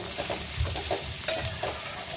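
Mixed winter vegetables and potatoes fry in a pan, a soft close sizzle punctuated by a few stirring clatters and one sharp utensil knock, with no talking.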